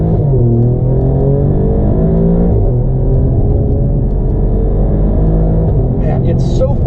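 An Alfa Romeo Giulia Quadrifoglio in race mode accelerates hard, its loud, close engine roar climbing through the revs with a deep rumble, then settling, with a few faint clicks near the end.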